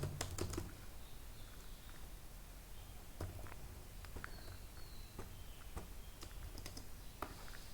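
Someone types on a computer keyboard into Notepad, sparse individual key clicks in an irregular rhythm over quiet room hiss, faint and close.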